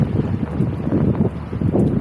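A narrowboat engine running while mooring: a steady low rumbling drone mixed with wind noise, fairly loud and close with no talk.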